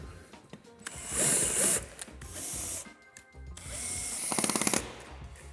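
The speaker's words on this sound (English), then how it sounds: "And there again, we'll put these screws in." Screws are driven into the door stop of a PD300 electric pocket door kit, with a power driver whirring in short bursts and a rapid ratcheting clatter near the end, close and clear.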